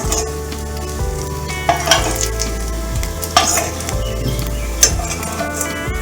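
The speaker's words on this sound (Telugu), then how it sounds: "దీంట్లోనే ఉల్లిపాయ ముక్కలు వేసుకొని వేయించుకోవాలి." Onion pieces frying in oil for a dried prawn curry, a steady close sizzle with occasional stirring scrapes and light clinks of a utensil against the pan.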